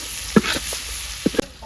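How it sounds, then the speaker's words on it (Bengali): Chopped onion frying with fried fish in a pan, a steady close sizzle broken by a few sharp stirring clanks of a utensil against the pan, with no talking. "পেঁয়াজটা মাছের লগে একটু ভাজা ভাজা করে নিই"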